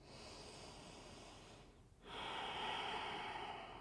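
Breathing during a yoga forward fold: a soft, quiet exhale sound, a brief pause, then a fuller, sustained breath that carries to the end, close and alone without talk.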